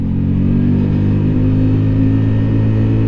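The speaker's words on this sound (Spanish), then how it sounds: "Hay que ver ese sonido vibración que tiene ya velocidades a partir de 80" A Keeway V Cruise 125 motorcycle engine drones steadily while riding on a highway at speed, a loud, even hum with constant vibration and no speech.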